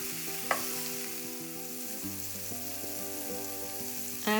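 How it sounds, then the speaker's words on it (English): Potatoes and cauliflower florets coated in turmeric and chili powder are stirred in a pan, with a steady sizzle under a sustained background hum and a couple of sharp utensil clinks. "Stir it well so the turmeric powder and the chili powder will be coated nicely to the potatoes and the cauliflower florets."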